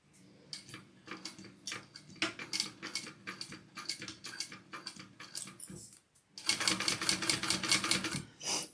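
Sewing machine running in repeated short stitching bursts while sewing a wallet pocket opening, near and steady, with a brief pause before a faster, denser run; no talking.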